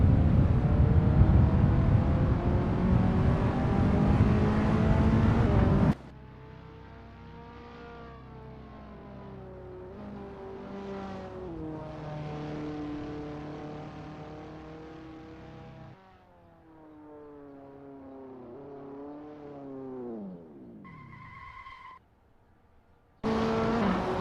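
Race cars lapping at VIR full course in Assetto Corsa, engines loud and close at first, then steady revving drones with rising and falling pitch as cars pass, shifting and fading away near the end before a roar returns.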